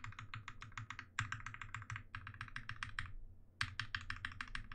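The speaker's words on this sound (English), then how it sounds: "Listen to how good these sound and then listen to the stabilizer key." Mechanical keyboard keycaps and a stabilizer key pressed in quick, rhythmic bursts of crisp clicking, close and quiet, with short pauses between runs and no speech.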